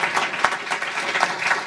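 Brief burst of audience applause at a panel on U.S.-Colombia relations, a short patter of clapping lasting under two seconds.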